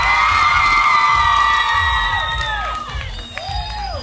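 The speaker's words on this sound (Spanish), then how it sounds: "Aplausos para la tercera." A loud, continuous crowd of cheering, whooping and shrieking voices mixed with applause fills a dance contest for girls at the Tizimín fair, the roar easing slightly toward the end.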